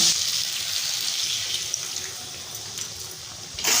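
Water is poured into a cooking pan of ridge gourd, potato and nuts curry on a gas stove, making a bright, steady hissing rush that eases off briefly before surging again near the end.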